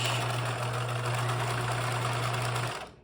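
A sewing machine stitching a straight seam for a mock French seam, a fast steady whirring hum with a constant motor drone, running close and loud for nearly three seconds before winding down.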